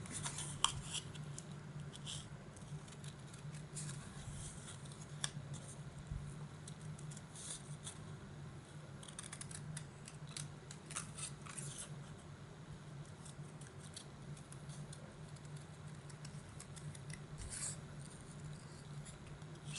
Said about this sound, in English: if you will turn your paper under your scissors, instead of turning your scissors,